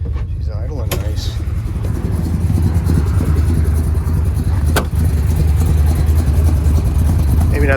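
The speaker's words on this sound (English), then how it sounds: "So you got a nice low rumble" A 1965 Plymouth Satellite's engine idles steadily with a deep, continuous low rumble, close and loud throughout, with a couple of sharp clicks along the way.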